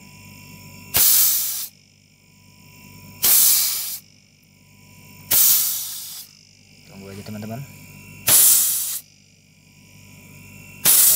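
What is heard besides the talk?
hiss of water vapour escaping from a freezer compressor condenser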